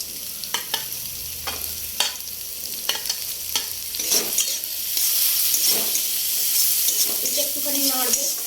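A spoon stirring chopped carrot in ghee, repeated scraping strokes against the pan over a soft sizzle, close and fairly loud, with no speech.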